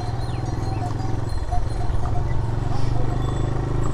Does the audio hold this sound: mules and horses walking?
yes